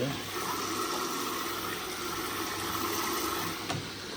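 Water gushes steadily into a washing machine as it fills, a constant close hiss and rush that carries through the whole stretch, with a faint knock near the end.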